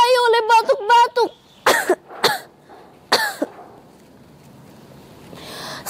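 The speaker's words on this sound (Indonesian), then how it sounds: "Demam yang tinggi dan disertai oleh batuk-batuk." Several harsh coughs and throat-clearing bursts follow a brief spoken phrase, each cough sharp and close, separated by short pauses.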